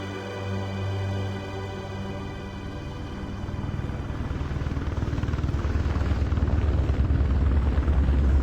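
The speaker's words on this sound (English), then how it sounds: "Get in the helicopter quickly." Helicopter in the video game Mr. Meat 2, with a steady rotor thump and engine drone that grows louder and more insistent over the clip, sounding close and continuous with no talk.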